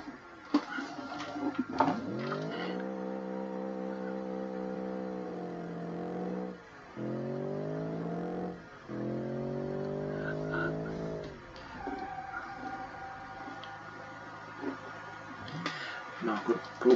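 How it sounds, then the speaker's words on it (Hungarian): A Dodge car performing a J-turn in the driving simulator BeamNG.drive, with its engine droning and shifting pitch, dropping out briefly twice, and tire scrubbing near the end. A voice talks over parts of it. "Csináljunk egy ilyen FBI-os fordulást."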